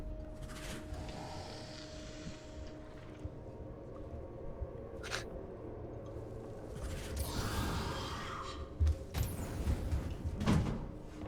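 A door in the survival horror game Alien: Isolation opens with a mechanical slide and a thud, followed by a few sharper knocks and clunks over a low hum, with no talk.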